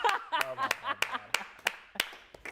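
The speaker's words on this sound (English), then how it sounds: "Come on, hand clap for Miss Solange." A student show audience claps sparsely, a handful of sharp, separate hand claps ringing out at a steady pace while a voice sings or speaks between them.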